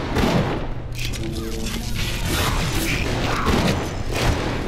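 Gunfire in BioShock on Xbox 360, dense bursts of shots and booming impacts filling the scene at close range, with a voice talking over the clatter throughout.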